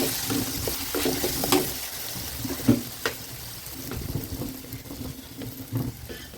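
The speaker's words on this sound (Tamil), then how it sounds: "தக்காளி கொஞ்சம் வதங்கட்டும் வாங்க" Chopped tomatoes sauté in a pan for a banana stem kootu, giving a soft, low sizzle broken by scattered spoon scrapes and stirring clicks.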